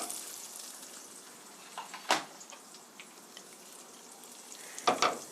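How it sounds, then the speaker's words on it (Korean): Garlic and onion sizzle steadily in a pan for a chicken spaghetti, with a faint, even frying hiss and two sharp scraping stirs of a utensil. "아까 썰어 놓은 갈릭, 마늘, 양파 조금을 넣고 볶아주세요."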